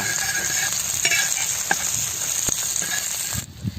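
Steady sizzling of snail frying in butter in a pan, loud and close, with faint stirring clicks throughout; the hiss drops away near the end.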